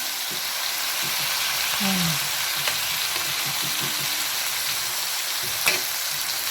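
Chicken liver cooking in vinegar in a pan for adobo, a steady loud sizzle and bubbling throughout with occasional faint clinks and a brief murmur of voice.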